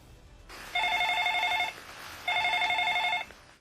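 A telephone bell rings in two clear bursts of electronic trilling, each lasting about a second, separated by a short pause and standing out loudly over faint background noise.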